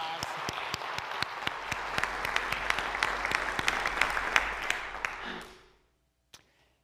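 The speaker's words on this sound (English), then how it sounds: "Give her another round of applause." A church congregation applauds warmly, a dense wash of claps that holds steady for about five seconds before tapering off into near silence, with a last isolated clap or two afterward.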